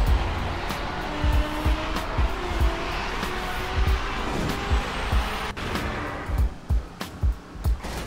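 A GTA 5 convertible car driving in turbo mode in the video game, a loud, continuous engine roar broken by rhythmic thumping pulses and hissing bursts, with no voices.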